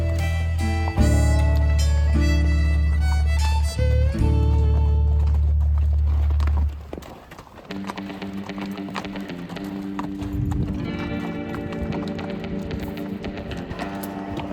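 Horses climbing steeply uphill on a wilderness trail, hooves clip-clopping in a steady walking rhythm, near and fairly loud, with a humming tone early on and no speech.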